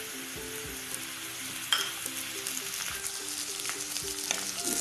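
Finely chopped mushrooms fry with onion in a hot pan, giving a steady close sizzle broken by occasional stirring scrapes and clicks, with no one talking.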